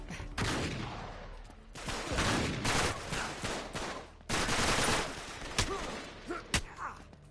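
Rapid gunfire in the video game Uncharted 3: Drake's Deception, dense bursts of automatic shots and scattered single blasts rattling continuously, loud and close.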